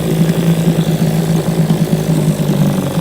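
A 1957 Evinrude 7.5 outboard motor idles with a steady, loud, close putter, running evenly without revving, with no voices over it.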